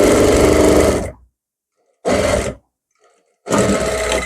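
Sewing machine running in three bursts while stitching a blouse neckline, a loud whirring hum that stops and restarts, with short silent gaps between runs.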